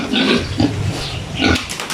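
Pigs on a farm grunt and squeal in short bursts close by, with two strong grunting calls separated by a brief pause, with no talking over them.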